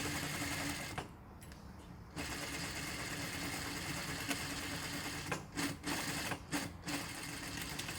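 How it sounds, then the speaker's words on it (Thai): A sewing machine stitches a seam up to the neckline corner of a long vest, running steadily with brief pauses and restarts as the fabric is repositioned. "ทีนี้ก็เย็บไปจนสุดเลยค่ะ"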